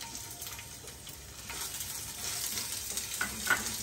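Chopped ginger and garlic fry in hot oil in a kitchen pan, giving a steady close sizzle with a faint scrape of stirring, no voices over it.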